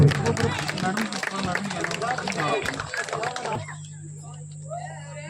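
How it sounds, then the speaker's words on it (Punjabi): A village crowd claps at the inauguration of the boundary wall of the government middle school in Lehal village. Dense, close applause runs for about three and a half seconds, then stops abruptly, leaving a steady hum. "ਸਾਰੇ ਨਗਰ ਨੂੰ ਬੇਨਤੀ ਹੈ ਕਿ ਖੁੱਲ ਕੇ ਤਾਲੀ ਜ਼ਰੂਰ ਲਗਾ ਦਿਓ"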